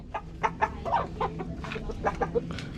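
Chickens cluck repeatedly nearby, a busy, overlapping series of short calls over a steady low background.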